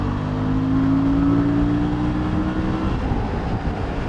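Aftermarket tires on a 2019 Suzuki V-Strom 650 motorcycle roar on the highway. The loud, steady rumble of road noise mixes with engine drone and wind, and the engine tone shifts slightly partway through.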